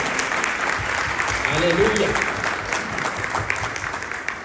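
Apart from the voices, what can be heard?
congregation clapping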